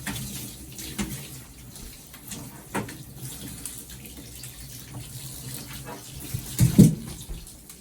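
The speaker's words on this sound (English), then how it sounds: "So I'm just rinsing her all off." Running water from a tap or hose rinses a dog during a bath at home, a steady close splashing wash that continues throughout with a brief louder slosh near the end.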